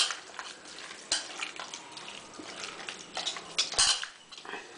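Avial being mixed and mashed in a pot, soft squelching and scraping with intermittent clinks of a utensil against the vessel, fairly faint and close.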